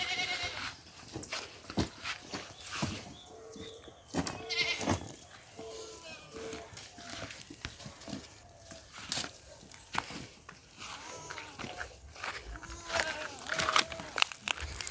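Goats bleat on a farm in Saint Elizabeth, Jamaica. Repeated short wavering cries come at varied distances, with scattered footsteps and shuffling, and someone talks intermittently over the animals.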